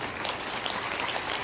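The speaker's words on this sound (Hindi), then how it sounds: "ताली बजा दो।" An audience at a Hindi spiritual discourse by a Sant claps together, a dense, even burst of applause holding at steady loudness for a moment with no voices on top.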